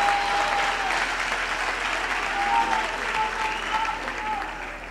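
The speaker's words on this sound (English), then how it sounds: "So a round of applause for them" Audience applause at a university graduation ceremony, a steady dense wash of many hands clapping across the hall, moderately loud and sustained, with a faint tonal whistle or feedback line running through it.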